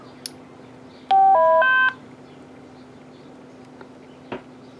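A Tytera MD-380 UHF handheld radio powers on with a brief burst of stepped electronic beep tones lasting under a second, followed by faint clicks, with no one talking.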